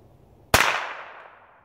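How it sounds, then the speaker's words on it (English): A rifle fires a single sharp, loud shot at a target, and the report decays into a reverberating tail over about a second. "So the very first method, we'll be using a rifle."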